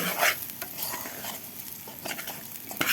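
Rice with freekeh, saffron, bay leaves, cinnamon, black pepper, cumin and salt is stirred and sautéed in a pot, giving close, soft sizzling with repeated scraping and stirring strokes and occasional light clinks.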